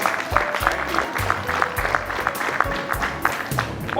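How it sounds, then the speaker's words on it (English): Applause from an audience at an anniversary celebration and awards event, a steady wash of clapping across the room, mixed with low thumping background music and faint crowd noise. "huge round of applause, please"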